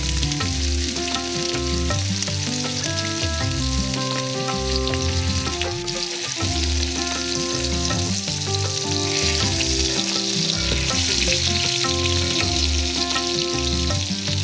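Fish coated in spice paste, Kerala style, frying in a pan of hot coconut oil, giving a loud, steady, continuous sizzle with no talk.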